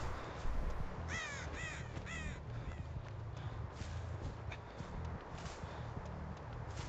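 Three harsh crow caws in quick succession near the start of a Dead by Daylight match, over a steady low rumble and scattered game sounds, then only background noise.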